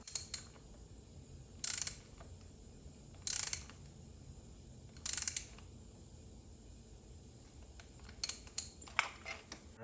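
A hand ratchet wrench tightens spark plugs into a car engine, giving several short bursts of sharp metallic clicking separated by quiet pauses, with a flurry of lighter clicks near the end.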